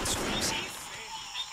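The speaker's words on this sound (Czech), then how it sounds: "teď se střílí" Gunfire from the Vietcong video game erupts in loud bursts of shots with a sharp crack and a rolling boom, dense and close throughout a short stretch.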